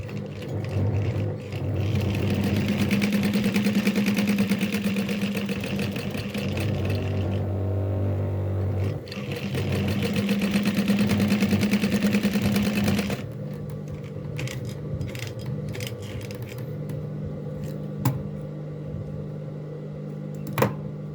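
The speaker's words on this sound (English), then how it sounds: "this is me sewing my fabric material with the same sewing machine" A heavy-duty walking foot sewing machine stitching fabric hums and clatters in sustained runs, stopping briefly between bursts, then lighter mechanical clicks and handling noises follow near the end.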